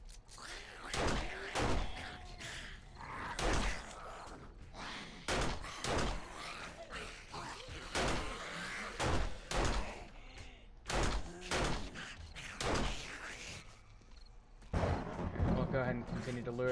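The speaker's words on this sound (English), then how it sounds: "using this pistol ammo up" Repeated pistol shots in the survival game 7 Days to Die, sharp loud bursts fired in irregular clusters across the stretch, with a person talking between and over them.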